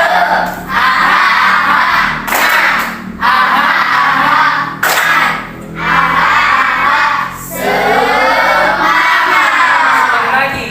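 Schoolchildren in a classroom loudly performing the Tepuk Semangat clapping chant: a crowd of young voices shouting in rhythmic bursts with claps, broken by short pauses between phrases.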